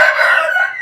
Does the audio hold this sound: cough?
no